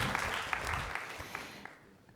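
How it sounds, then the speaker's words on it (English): An audience at a leadership talk applauds, soft and somewhat distant, the clapping thinning out and fading away toward the end. "You could clap too."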